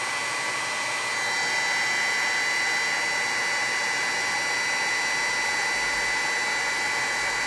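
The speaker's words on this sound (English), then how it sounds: "as we start to melt that embossing powder" A heat embossing tool melts embossing powder on a paper card, giving a steady, loud, hair-dryer-like whoosh that runs unbroken throughout with no talk.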